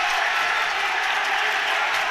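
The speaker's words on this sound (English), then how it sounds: "It's a big hand from the crowd." Steady applause from a hockey crowd at a prep school game, a dense even patter of clapping that holds without a break, with no voices standing out.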